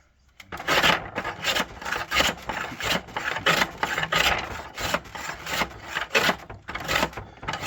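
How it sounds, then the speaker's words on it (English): A hand plane takes the corners off a half-inch wooden war arrow shaft: a regular series of close, rasping strokes, each a short scraping swish, with brief gaps between them. "Now I'm going to take these top corners off."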